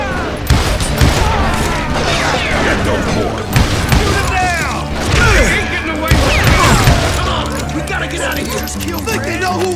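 Call of Juarez: Gunslinger gunfight: loud repeated gunshots and booming blasts crack out in irregular bursts, mixed with crashes and a narrator's voice talking over the mayhem.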